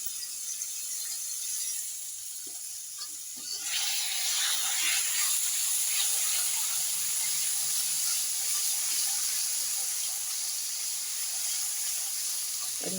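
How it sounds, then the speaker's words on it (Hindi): Spices dropped into hot oil to temper kadhi, with fenugreek and asafoetida already in the pan: a sudden loud hiss and crackle of sizzling that jumps up and carries on steadily, close by. "और अब ये मसाला डाल रही हूँ।"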